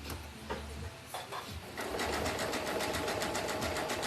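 A sewing machine runs close by, stitching a coiled clothesline coaster. Short hesitant bursts of stitching give way to a fast, steady rhythmic hum.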